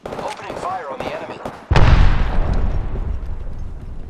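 Gunfire in the video game Apex Legends opens with a sudden loud blast and continues as a heavy rumbling barrage, following moments of nearby player talk and game voices.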